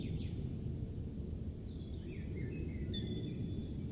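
Woodland birds sing over a steady low background rumble, with several short chirps and whistled phrases in the second half, fairly faint and at a distance.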